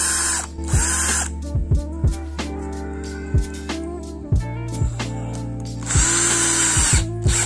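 A cordless power drill driving a screw into wood with the torque setting lowered, whirring in several short bursts with changing pitch, broken by sharp clicking stops as the clutch engages, loud and close.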